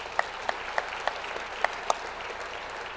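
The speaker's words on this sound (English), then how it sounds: "join me in a round of applause for the great work of our board chair" A few spaced, sharp hand claps ring out over a quiet murmuring room at a business luncheon as the audience salutes the board chair, faint and sparse rather than a full ovation.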